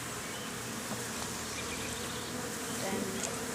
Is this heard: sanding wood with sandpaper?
no